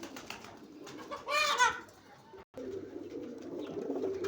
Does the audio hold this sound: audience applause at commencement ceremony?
no